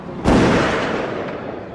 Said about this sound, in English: Popeye shoots him in the back